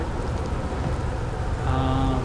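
Water gushes from a geyser in the Outer Wilds video game, a steady, dense rushing hiss that swells slightly louder toward the end.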